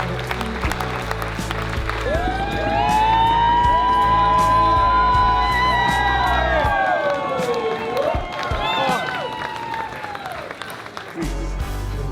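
Loud, sustained applause from a large standing audience with cheering and whoops, clapping steady throughout and swelling in the middle before easing slightly.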